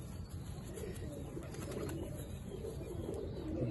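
Soft, low cooing of a male Sialkoti pigeon repeats steadily against a faint steady background hum, fairly close and calm.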